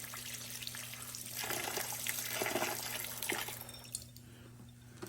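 White vinegar pours and trickles over a rusty brake rotor in a container, a steady liquid splash that swells midway and then eases off, with a low hum underneath.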